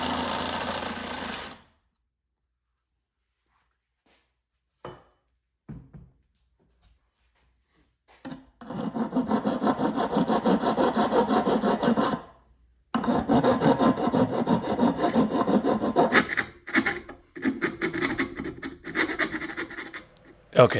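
Blade held in hand slowly cutting a tab off a Durst 139G enlarger, long rough scraping strokes in sustained bursts with short pauses, close and steady.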